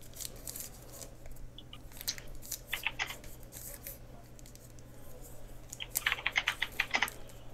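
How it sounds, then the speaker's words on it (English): Someone typing on a computer keyboard during a tabletop game session, scattered key clicks that build into a denser, crisper burst near the end over a low steady hum. "I hear her typing."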